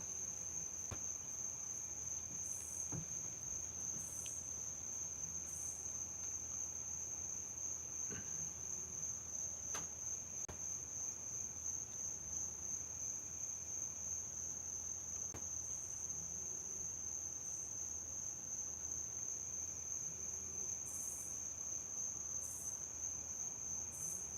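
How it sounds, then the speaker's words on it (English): Crickets chirp steadily through a quiet night, a continuous high trill with faint pulsing chirps from other insects, no voices. "I hear crickets and things in the background."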